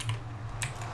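Quick, quiet clatter of a computer keyboard while chatting during a Minecraft game, a short run of close keystrokes with no voices.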